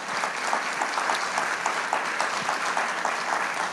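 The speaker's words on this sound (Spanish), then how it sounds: "Dale un fuerte aplauso al Señor Jesús." Church congregation applauding during a Spanish-language sermon, a steady dense clapping of many hands heard alone at moderate level for a few seconds.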